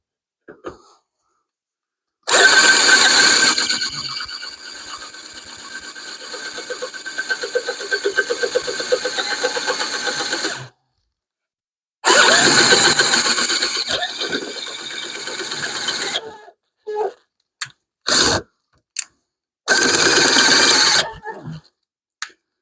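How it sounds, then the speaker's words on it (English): A drill bores into a steel Hemi connecting rod that is being made into an end table lamp. The whine comes in long, loud bursts of about eight and four seconds, followed by several short stop-start pulses. "she's drilling just fine, but we're getting there"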